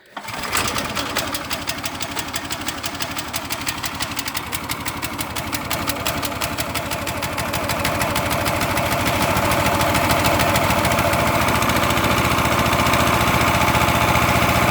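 A County Line 22-ton log splitter's gas engine starts and runs steadily, a loud close chugging roar that builds slightly in intensity and holds a rapid even firing rhythm throughout.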